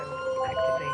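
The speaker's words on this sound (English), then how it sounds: "Can you put your lights and sirens on just quickly to see if the patient can hear them?" An ambulance siren sounds steadily, its pitch switching between tones in a continuous wail, moderately loud and without voices over it.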